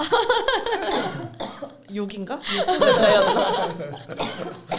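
A person coughs a few times in harsh bursts close by, mixed with talking before and after.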